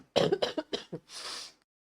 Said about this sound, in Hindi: खांसी तो ठीक ही नहीं हो रही है।